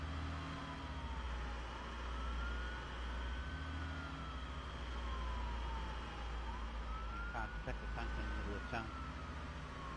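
A police siren wails in the Arma 3 game, sweeping up and down steadily over engine rumble, with excited voices talking in the background.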